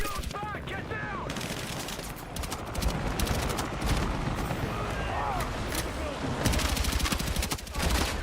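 Heavy, sustained gunfire and bursts of automatic fire roar through a Battlefield firefight in a souk, loud and dense throughout, with shouted voices breaking in amid the shooting.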